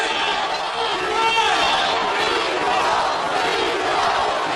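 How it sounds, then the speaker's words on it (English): An MMA arena crowd chants a fighter's name in a loud, continuous, rhythmic roar with background hubbub that stays steady throughout. "The crowd is doing the Rocky thing, but just chanting Nico."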